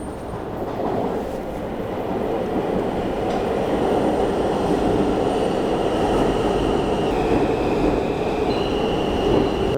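A subway train rumbles through an underground station in a loud, continuous roar of wheels and cars, with faint high metallic squeals creeping in toward the end.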